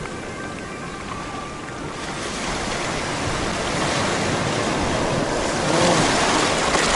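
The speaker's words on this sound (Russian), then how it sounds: "Вот оно, Черное море." Black Sea surf at Sochi roars steadily against the shore, close and loud, swelling stronger through the second half with some wind buffeting the microphone.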